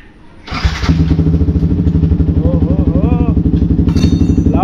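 A Yamaha MT-15 motorcycle fitted with an Akrapovic full-system exhaust cold-starts after a brief crank, then settles into a loud, close, rapid burbling idle. A short blip follows near the end.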